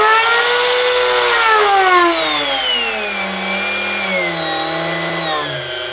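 A Genmitsu 4040-Pro Max CNC spindle motor whines loudly and steadily, its tone gliding slowly downward as it runs, with nothing else heard alongside.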